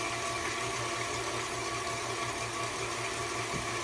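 An electric mixer beats cookie dough with brown sugar, giving a constant close buzzing whir at even loudness throughout.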